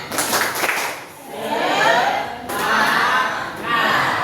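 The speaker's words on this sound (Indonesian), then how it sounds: "Tepuk semangat dulu, tepuk semangat" A group clapping together in bursts, a steady patter of hands that swells, dips briefly, then picks up again, with voices mixed in.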